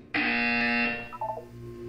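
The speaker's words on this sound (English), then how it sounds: "When you hear the buzzer, look up at the ceiling" A buzzer from the video game Portal 2 sounds once: a loud, steady electronic tone held for about a second, then fading into a few softer beeps.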